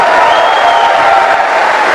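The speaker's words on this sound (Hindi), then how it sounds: "मैं चाहूंगी इसे ज्यादा जोर से ताली बजा सकते हैं आप मेरे मेंटर के लिए" An audience at a motivational talk applauds and cheers for a mentor, a loud, continuous wash of crowd clapping and voices with no pauses.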